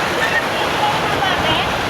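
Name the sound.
floodwater rushing into a flooded house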